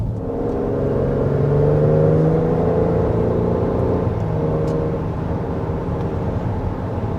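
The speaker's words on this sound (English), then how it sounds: "Now we're speeding up to 55 miles an hour" A 2025 Ford Explorer Platinum SUV engine rises steadily in pitch as it accelerates to 55 miles an hour, with a continuous low rumble and road noise throughout; no talking.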